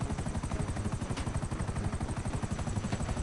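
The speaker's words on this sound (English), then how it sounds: "These helicopters piss me off the most out of every helicopter." Helicopter in the video game GTA 5, its rotor chopping in a fast, even beat that stays loud and steady throughout, with no voices over it.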